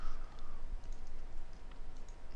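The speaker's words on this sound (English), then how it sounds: "Sorry, I get a bit distracted typing and talking." Faint, quick clicking of typing on a computer keyboard, scattered light keystrokes over a low steady background hum, with no talking.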